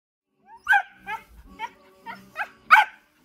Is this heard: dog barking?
yes